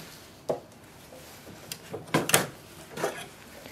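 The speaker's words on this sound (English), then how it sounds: "Open the ink lock and take the cartridge out." Ink cartridge being unlatched and pulled from an HP Envy 6430e printer, giving a few short plastic clicks and scraping knocks, close and moderately loud, with no talking.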